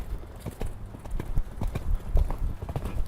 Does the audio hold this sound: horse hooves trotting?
yes